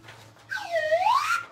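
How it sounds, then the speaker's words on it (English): A slide whistle blown once, its tone swooping down and then gliding back up in a single loud, close, continuous sweep. "Oh, and I found my slide whistle."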